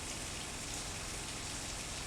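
Steady outdoor rain falling in a dense, even hiss across the whole moment, with no break or pause, close and moderately loud.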